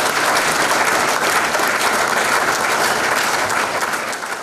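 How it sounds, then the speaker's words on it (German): Thunderous applause from guests after an emotional farewell speech by a retiring mayor, a dense, loud, continuous clapping that fills the room without letup. "Die Gäste würdigten diese emotionale Ansprache mit tosendem Applaus."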